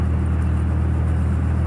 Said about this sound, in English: sorry if my car's really loud, it's a beefed up Jeep.